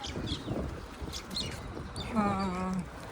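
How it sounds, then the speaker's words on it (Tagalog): Pigeons by a river on a morning walk give a short, low cooing call over steady open-air ambience, with faint chirps scattered around it. "tumang-tuwa din yung mga kalapati sa ilog"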